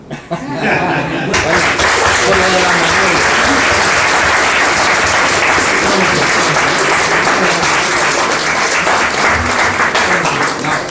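After a moment of voices and a few laughs, a lecture audience breaks into loud, sustained applause, many hands clapping steadily for about nine seconds, with some chuckling mixed in.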